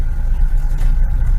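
A car rolls slowly along a dark road, giving a loud low rumbling engine drone from inside or near the vehicle, steady throughout with no voices.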